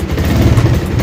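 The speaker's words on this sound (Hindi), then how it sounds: "स्टार्ट हो गई बाइक" A motorbike engine, just started for an early-morning ride to Vrindavan, runs with a steady, loud, low rumble close by and no break for the whole moment.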